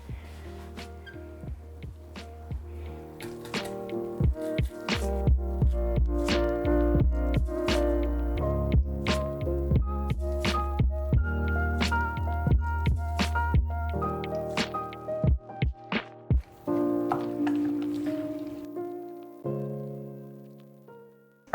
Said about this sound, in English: I think we can drain the water now.